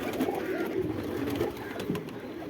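Farm pigeons coo close by in a low, rolling rhythm, several overlapping throaty calls pulsing steadily with no talk.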